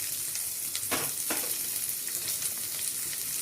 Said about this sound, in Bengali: এবারে দিয়ে দেব পেঁয়াজ কুচি একে একে পেঁয়াজ কুচিগুলো